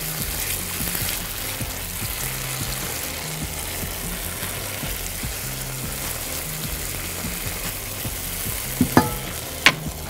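Tomatoes and fries stir-fried in a pan give a steady close sizzle, with a couple of sharp utensil clinks near the end.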